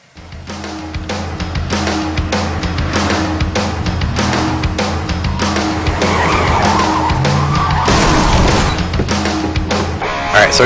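Car engine revving and tires skidding during a joyride in the action game WET, a continuous loud drive with squealing slides and crashes layered over the engine drone.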